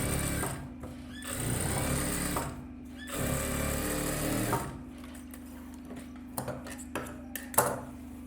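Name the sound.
sewing machine stitching a silk skirt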